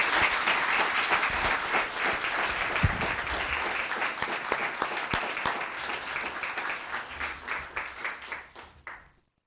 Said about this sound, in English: Another round of applause for Robertson Publishing.